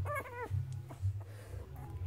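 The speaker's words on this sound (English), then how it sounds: "she's so nearly barking" A young puppy lets out a couple of high, wavering whimpers up close, followed by soft snuffles and small squeaks over a low hum.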